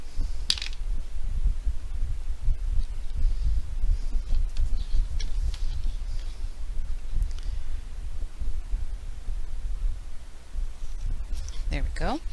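Hole punch being worked through a paper craft project, a rapid series of sharp clicks and mechanical snaps close by, with no talking during the punching.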